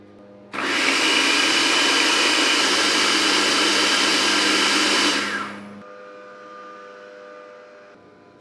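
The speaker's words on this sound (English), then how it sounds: "I'm going to switch over to my food processor again" A food processor grinds ground cacao with sugar and milk powder for homemade chocolate, a loud steady whirring motor roar that holds for about five seconds, then spins down to a quiet hum.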